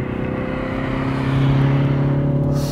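A 2020 Ford Mondeo 2.0 diesel engine builds speed under acceleration, a steady, loud, throbbing drone with strong low harmonics that swells slightly toward the end, giving a deep multi-cylinder beat with no talk over it.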